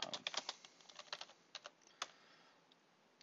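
Code is typed on a computer keyboard: quick, close, crisp key clicks in irregular bursts with a short pause midway, heard alone and fairly quiet.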